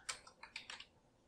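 Quick burst of computer keyboard typing, five or six close key taps in an uneven run, crisp and fairly faint with no talk, as a Windows command is entered.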